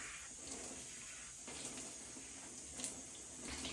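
Water runs steadily onto hair and scalp during a wash-day rinse, a continuous close hiss of flowing water with small splashy bursts and no talk.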